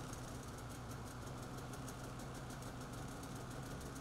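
A Polaris Voyageur snowmobile engine idles at a steady, even level, with a continuous broadband rumble and no breaks or rev changes.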